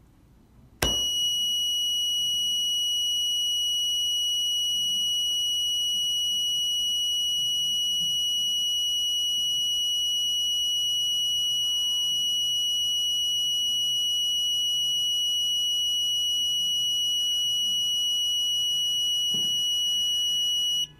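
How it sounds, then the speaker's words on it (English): A loud, steady high-pitched electronic alarm tone from a vibration-triggered window alarm buzzer starts abruptly and drones continuously for about twenty seconds, with faint background noise underneath. "the buzzer will sound for 20 seconds"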